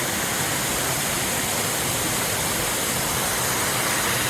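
Small waterfall at Los Chorros in Grecia, Costa Rica, rushing in a loud, dense, unbroken roar of falling water that fills the whole stretch, with no voices.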